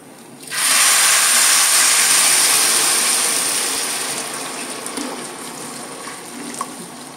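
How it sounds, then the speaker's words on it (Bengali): Water is poured into a hot pan of fried rice for Bengali-style basanti pulao, setting off a sudden loud steaming hiss that gradually fades into a softer bubbling over several seconds. "এবার আমি জলটা দিয়ে দিচ্ছি"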